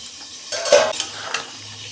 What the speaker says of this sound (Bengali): এই যে আমি ঢাকনা খুলছি।